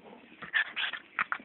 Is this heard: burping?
no